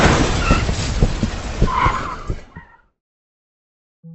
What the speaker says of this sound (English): He had a severe accident with another car on the road.